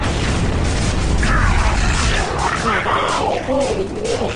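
A grenade explodes in a Gears of War 3 tournament match, a heavy, rumbling boom in the opening two seconds that fades into game noise while players talk over it.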